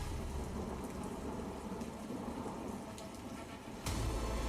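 Heavy rain pours steadily over Delhi streets as a dense, continuous hiss of drops on surfaces, with a sharper burst near the end.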